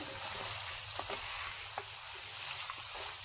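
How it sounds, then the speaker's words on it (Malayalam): Fried cassava (tapioca) being stirred in a pan, giving a steady hiss of frying with a few soft scrapes and taps from the stirring, close and unbroken throughout. "ആദ്യമേ തയ്യാറാക്കി വെച്ച ഫ്രൈ ചെയ്ത് വെച്ച മരിച്ചീനി ഇട്ട് കൊടുക്കാം. എന്നിട്ടിത് ഒന്ന് ഇളക്കി കൊടുക്കാം."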